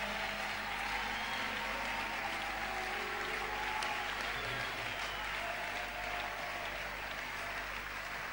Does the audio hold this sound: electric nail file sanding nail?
no